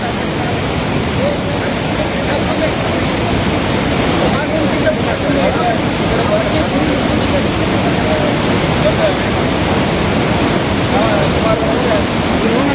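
Arabail waterfall running with increased flow after rain, a loud, steady, broadband roar of falling water that fills the whole stretch without a break, no voices standing out.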